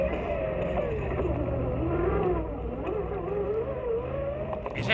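Suzuki 4x4 trucks grind through an extreme off-road challenge course, engines droning and revving under load in a continuous, fairly distant roar that rises and dips without pause.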